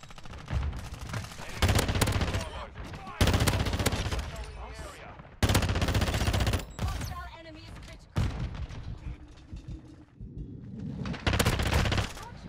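Rapid bursts of automatic AR rifle fire in a video game come in several loud, close volleys separated by short gaps, alongside game sound effects.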